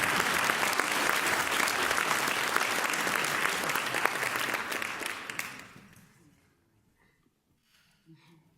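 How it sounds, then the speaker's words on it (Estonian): Audience applause at a school anniversary concert ceremony honouring a history teacher, a dense, steady clapping that holds strong for over five seconds before fading out, leaving near silence. "Ma palun suure aplausi meie kallile ajalooõpetaja Julius Liivile."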